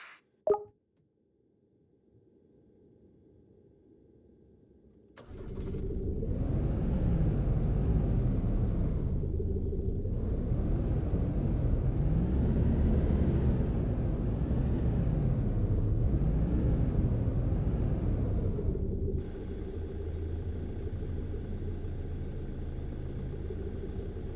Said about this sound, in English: Hop back in the tug and head over to the aircraft as indicated.